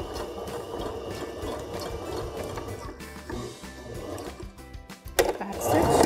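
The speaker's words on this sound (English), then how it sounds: "in the middle of the groove of the presser foot and start stitching" A sewing machine stitches along the edge of a shirt being upcycled into a skirt, a close, steady mechanical whirr with rapid needle rhythm, pausing briefly and then resuming more loudly near the end.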